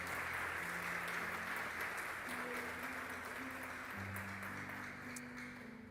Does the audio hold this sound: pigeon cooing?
no